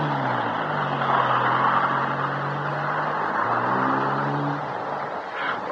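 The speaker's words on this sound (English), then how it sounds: "There's Hicks' car turning the corner." A car turns a corner as a radio drama sound effect, its engine droning steadily and shifting in pitch with a slight rev before easing off, fairly close and with no talking.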